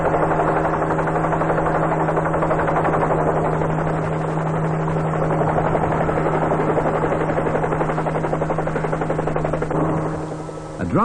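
A Sioux light helicopter carrying a pilot and up to two passengers flies overhead during the Vietnam War, its rotor thumping steadily with a droning engine hum for a sustained stretch before the sound shifts at the end.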